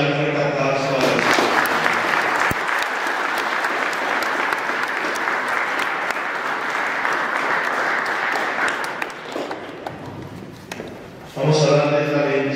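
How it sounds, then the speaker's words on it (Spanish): Steady congregational applause filling a church during a quinceañera Mass in García de la Cadena, Zacatecas, a dense sustained clapping that fades toward the end before a voice resumes. "Vamos a darle un fuerte aplauso a Dios."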